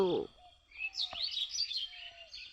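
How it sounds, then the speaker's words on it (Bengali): Small birds chirp and tweet in short, bright calls beside a winter mustard flower field, faint and fairly close, with a brief snippet of a voice at the very start. "আর পাখির ডাক।"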